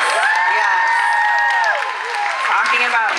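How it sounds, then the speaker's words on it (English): An audience at a Vampire Diaries convention panel breaks into a round of applause, a dense wash of clapping with cheering voices mixed in, steady and loud for about three seconds. "Big round of applause."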